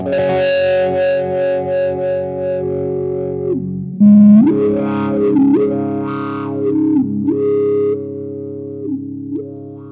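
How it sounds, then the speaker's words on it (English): A distorted electric guitar plays through a Dunlop Cry Baby Q Zone fixed wah pedal, its tone nasal and vocal-like as held notes and short phrases ring out for about ten seconds. "there's a large group of frequencies that's being swept by the wah knob"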